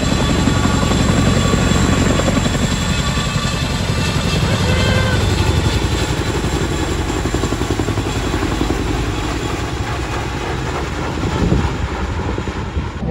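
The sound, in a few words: helicopter flying overhead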